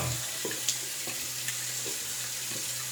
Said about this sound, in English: let's do a real rinse